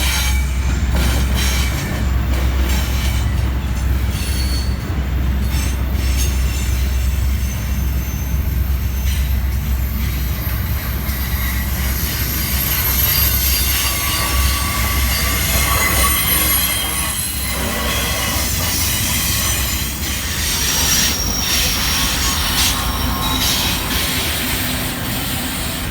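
An intermodal freight train with AC44CW and SD70M locomotives rolls past at a Vancouver rail terminal, giving a loud, continuous rumble with steady wheel squeal and no talk.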